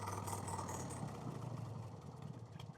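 A 1990 Harley-Davidson Fatboy fitted with an S&S Super E carburetor idles with a steady low rumble, close and continuous, fading slightly toward the end.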